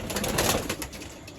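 Red tamda pigeons coo in a loft in Moradabad, several overlapping throaty calls rising and falling close by, with no talking.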